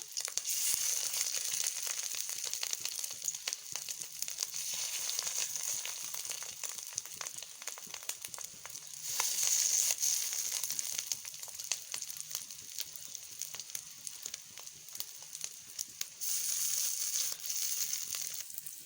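Continuous crackling sizzle of fish roe fritters frying in oil, with bursts of louder spattering pops coming and going throughout.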